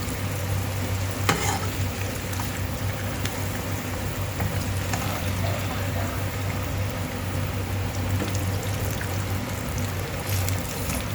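Chicken pieces frying in a pan over medium heat give a steady, even sizzle and crackle throughout, with a couple of faint clinks and no talking.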